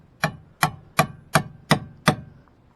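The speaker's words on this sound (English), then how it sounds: "You're just going to have to tap." Six sharp metallic taps from a hammer driving a truck camper jack pin into its notches, evenly spaced about a third of a second apart, close and clear with nothing else heard.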